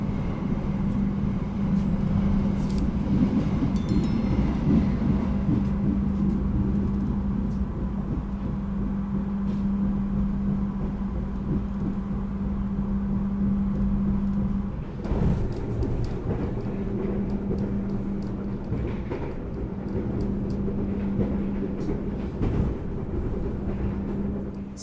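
The Taksaka passenger train passing close alongside, heard from aboard the Kertajaya train, a loud sustained rumble and roar of wheels and engine drone that shifts midway as the other train goes by.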